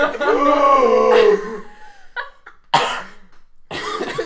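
A person coughs and stifles it amid a tabletop role-playing game session, with a throaty vocal sound followed by a couple of sharp bursts and short breathy outbursts.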